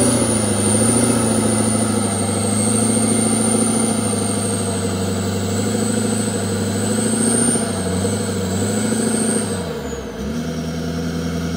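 A monster truck engine runs steadily during testing, a loud, continuous low rumble with a high whine on top, dipping briefly near the end before settling back to idle.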